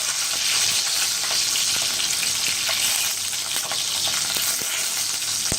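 Large green chillies fry in oil with a dense, loud, continuous sizzle and crackle that stays steady throughout, with small pops scattered across it.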